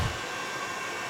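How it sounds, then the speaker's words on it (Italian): A thermal heat gun reaching 200 degrees, used to bond a decorative frieze onto a mirror being restored, blows a steady, even whoosh of air, close and constant for the whole short stretch. "Il mio phon termico arriva addirittura a 200 gradi"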